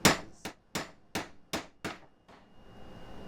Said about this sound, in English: Turn it, hammer it down again.